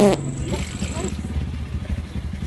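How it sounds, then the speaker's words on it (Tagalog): A motorcycle engine keeps running with a steady low rumble that won't shut off, close and fairly loud throughout, after a brief sharp sound at the start. "ayaw ma-stop ng aking motor"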